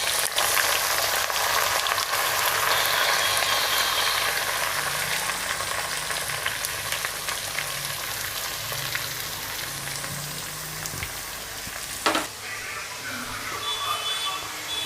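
Onions with curry leaves and chilies sauté in a pan for an egg potato kurma, giving a steady, close, dense sizzle that runs the whole time, with an occasional stir or clink near the end.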